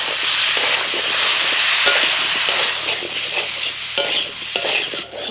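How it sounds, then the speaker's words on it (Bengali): Taro and potato with turmeric, Kashmiri chilli, coriander powder and ginger-green chilli paste frying in a pan for a traditional vegetarian curry, giving a steady loud sizzle with scraping stirs and a hiss as water goes in. "কচু আলুর সাথে ভালো করে মশলাটা কষিয়ে নিয়েছি, এবার দিয়ে দিচ্ছি একটু জল।"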